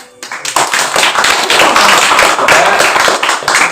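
A burst of applause from a small workshop group after a presentation, quick overlapping hand claps starting abruptly and continuing steadily, fairly loud and close.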